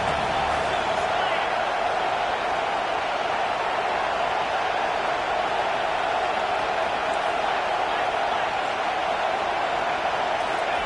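Home crowd roaring at a college football game between Notre Dame and North Carolina, a dense, loud, steady wash of cheering that holds without a break, with a broadcast announcer talking over it.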